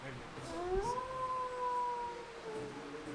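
A man imitates a wolf howl at a wrestling show, one rising and sustained wavering howl over a steady crowd murmur.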